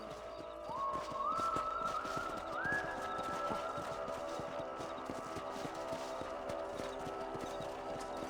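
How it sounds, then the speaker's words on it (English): Horse hooves clip-clop steadily under an outdoor game soundscape in Red Dead Redemption, with a brief whinny early on and rising tonal music over a continuous backdrop. "O cavalo tá doido."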